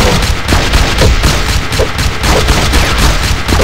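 Gunfire from a weapon in the zombie shooter game SAS Zombie Assault 4, a loud, dense and continuous barrage of rapid shots with no pauses.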